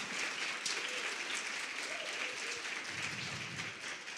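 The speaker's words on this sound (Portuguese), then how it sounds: "Aplauda Jesus com força" A church congregation applauds steadily and fairly far off, a dense, sustained wash of clapping with no voices over it.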